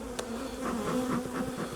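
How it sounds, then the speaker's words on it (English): Honey bees swarm around an opened hive being split, a close, steady droning buzz with individual bees passing near and fading, and no voices. "What I'll do is I'll smoke the bees down a little bit,"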